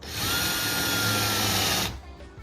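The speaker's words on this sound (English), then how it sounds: "What I'm gonna do today is called countersink our screws so that they are hidden" A power drill countersinks screw holes in a wooden cornhole board, giving a loud, steady high whine for about two seconds before cutting off abruptly.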